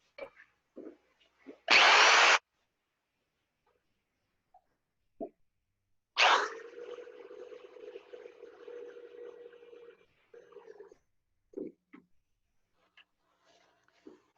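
A power drill whirs in two bursts, a short high whine then a longer steady grind through wood, with small knocks and taps around them.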